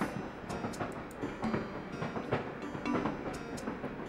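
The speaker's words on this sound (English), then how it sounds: "Nice, calm train ride." Train ride in the Animal Crossing: New Leaf video game: a steady, moderately loud rolling rumble with a repeated clickety-clack rhythm runs through the whole stretch, with no voices.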